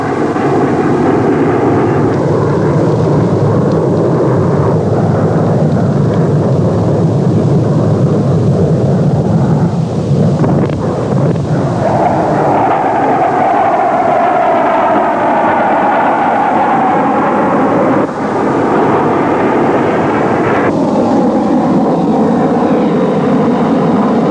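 RAAF Mirage fighter jets on a dawn strike training exercise make a loud, continuous roar. The engine noise rises and shifts with a sweeping tonal whine midway, sustained and close, with no talking.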